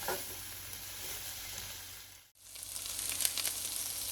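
Onions sautéing in a skillet for a one-skillet meal, giving a steady, close sizzle with faint stirring crackle; the hiss briefly drops out near the middle, then returns slightly louder and busier.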